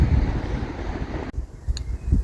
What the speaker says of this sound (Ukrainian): От не було вітру, поки я не почала знімати.